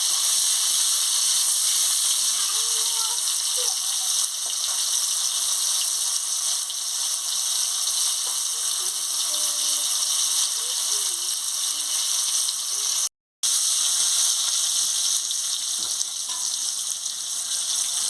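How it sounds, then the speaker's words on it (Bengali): Chopped tomatoes frying in a pan for a fish dish, giving a constant loud sizzle and hiss that runs throughout with a brief dropout near the end, with no talking. "এবারে টমাটো কুচিটা দিয়ে দিচ্ছি, দিয়ে ভালো করে একটু ভেজে নিচ্ছি।"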